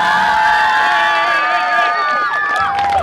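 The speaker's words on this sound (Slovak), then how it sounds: "Tak si skúsime jeden obrovský potlesk iba pre kameru." A big crowd at the Žarnovica town days festival in 2017 cheers and whoops loudly and continuously, with sustained shouting voices that waver and fade near the end.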